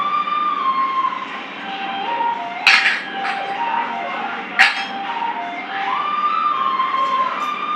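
A kadai set down on a home kitchen stove, giving two sharp metallic clinks about two seconds apart over steady background hum and other kitchen noise.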